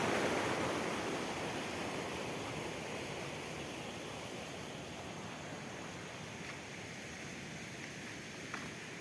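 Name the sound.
stream flowing toward a big river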